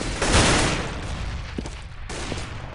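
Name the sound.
grenade explosions and gunfire in a video game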